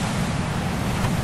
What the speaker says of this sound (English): heavy waves splashing,